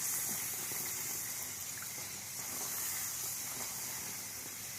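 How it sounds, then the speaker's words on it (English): Puris frying in hot oil, a continuous bright hiss and bubbling sizzle at an even level throughout, close and alone without talking. "fry it in oil"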